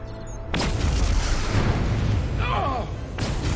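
A detonation in the Star Trek Resurgence video game: a sudden loud boom that swells into a sustained low rumble, with a brief crackle partway through before the roar continues.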